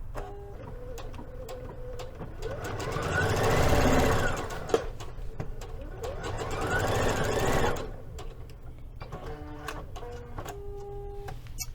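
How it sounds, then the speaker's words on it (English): A domestic sewing machine runs a seam on a palazzo suit in Liberty London fabric, its motor whirring in two sustained bursts that swell and ease, with short stop-start clicks at either end. "start at the bottom and sew all the way up using 5/8 of an inch seam allowance"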